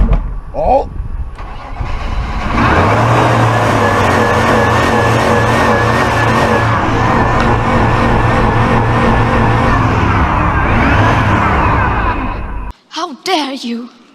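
An old car engine starting with a short crank, firing up and running at a loud, steady rumble close by for about ten seconds before cutting off, with a voice exclaiming before and after.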